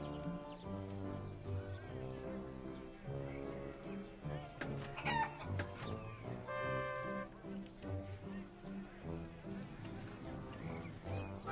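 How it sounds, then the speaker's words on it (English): Golden geese cluck at feeding time in the game Wallace & Gromit's Grand Adventures, a busy farmyard mix of clucking, crowing-like calls and clip-clopping hooves in moderate, continuous layers. "Feeding time for one of my golden geese."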